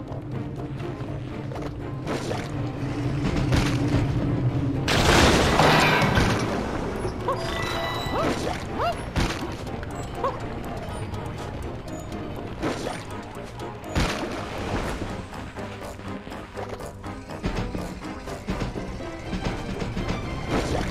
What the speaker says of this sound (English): And look at that! The explosion